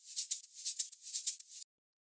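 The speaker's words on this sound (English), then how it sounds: "the last layer that we have here is the shaker" A high-pitched shaker loop from a classic deep house beat plays alone, quiet and crisp. It makes rhythmic bursts of rattling hiss in a steady groove, then stops abruptly.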